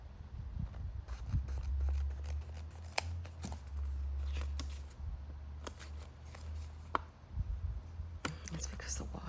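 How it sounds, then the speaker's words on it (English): Paper for planner dividers being trimmed with scissors, soft close snips and rustling paper spread across the clip, with whispered speech and handling noises underneath. "Let me cut a little bit off right here to see if it'll."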